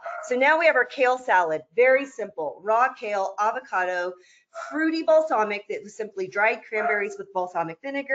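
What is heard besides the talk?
dog barking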